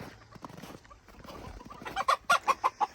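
Chickens and roosters cluck inside a cold-weather coop, with soft scattered calls building into a run of loud, evenly spaced clucks close by near the end.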